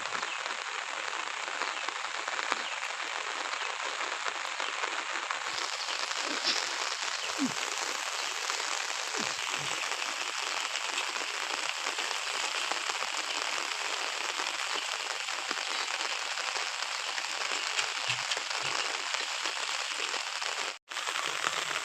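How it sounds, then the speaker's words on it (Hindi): Heavy rain pours steadily in a village, a dense unbroken hiss that stays constant and fairly close for the whole stretch, with no voices. "देखिए कितना तेज बारिश हो रहा है।"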